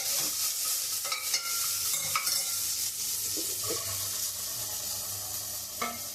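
Garlic, ginger and coriander sautéing in a kadai sizzle steadily while a spatula scrapes and clinks against the metal in irregular strokes, close and alone.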